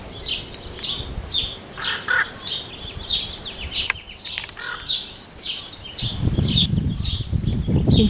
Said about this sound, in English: Big fight. Two hawks, one raven.